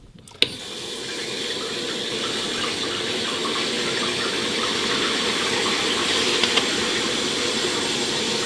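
Water rushes steadily into a toilet tank fitted with a Fluidmaster 400 fill valve after the supply valve is opened, a sharp click at the start followed by a constant loud hiss and flow.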